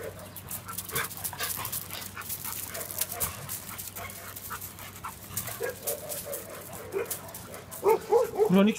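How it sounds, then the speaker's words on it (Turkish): A dog with a chronic breathing problem barks and pants in short, irregular bursts, louder toward the end, amid outdoor background noise and occasional human voices. "Kronik solunum sorunu olan köpeğimiz."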